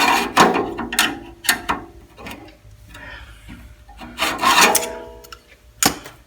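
Metal drawer slide pried loose with a screwdriver from a Craftsman metal tool box, giving several sharp scraping, rasping clanks and ratchety clicks in bursts, close up and moderately loud, with quieter shuffling between them.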